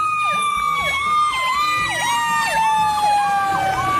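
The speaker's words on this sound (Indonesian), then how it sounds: "Yang ini truk pemadam kebakaran." A toy fire truck siren wails in a steady repeating up-and-down pattern, loud and close, with a faint rattling hum underneath.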